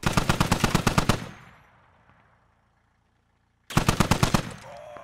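Rapid automatic gunfire bursts from the SquadOps video game, a loud volley of about a dozen quick shots, then a fading tail into near silence, followed by a second rapid burst.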